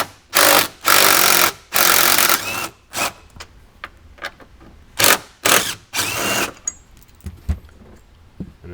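A ratchet removes 10mm bolts inside a 2021–2024 Ford Bronco, heard as several bursts of loud, close clicking, some long and some short, separated by quiet gaps.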